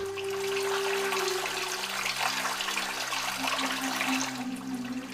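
A river flows through a remote, silent mountain landscape lined with trees, giving a steady, loud, continuous rush of water with no pauses and no voices.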